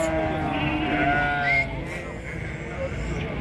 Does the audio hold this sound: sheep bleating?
yes